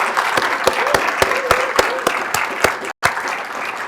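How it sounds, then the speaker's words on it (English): Audience applause for city staff at a mayor's State of the City address in Warrenville, with clear individual claps standing out over a steady wash of clapping, loud and near, briefly cut by a short dropout. "how about a big round of applause for our staff for the City of Warrenville"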